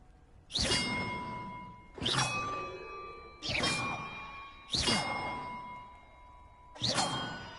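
Five bells in Hogwarts Legacy ring one after another at a steady pace, each a bright metallic strike with a whooshing onset and a ringing tone that lingers until the next.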